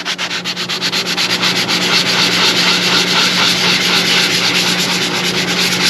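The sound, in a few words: sanding gelcoat repair on a boat hull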